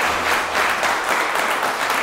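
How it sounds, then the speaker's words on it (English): A studio audience at a live show claps steadily and fairly loudly, a dense continuous patter of hands with slight swells and no voices on top. "You guys are so good at clapping."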